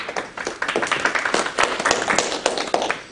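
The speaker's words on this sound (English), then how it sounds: "Well, don't clap yet." Small audience at an in-house real estate agent video training session clapping, a brief burst of close, irregular hand claps from a modest group over about three seconds.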